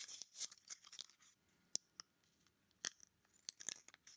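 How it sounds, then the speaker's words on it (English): Several crisp scissor snips cut through a thin Pokémon card pack, spaced irregularly with faint crinkling between cuts. "Carefully snip the top."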